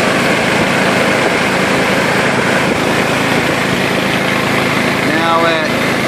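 A 48-volt Turgo hydro generator runs steadily on one 1 3/4-inch nozzle at 25 PSI, about 75 gallons per minute. It gives a constant, loud rushing whir with no breaks.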